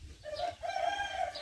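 Chickens at a tiny coop give a drawn-out, crow-like call with clucking, near and moderately loud, with no talking.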